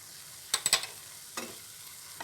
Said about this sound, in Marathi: इथे टोमॅटो बरोबर मी आता आलं लसूण पेस्ट पण याच्यामध्ये घालून घेते आणि सर्व असं परतून घ्यायचं व्यवस्थित